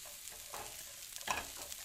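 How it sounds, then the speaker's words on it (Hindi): Chopped onion fries in half a cup of hot oil, giving a soft, steady sizzle with a brief stir or scrape near the end. "प्याज को फ्राई करेंगे"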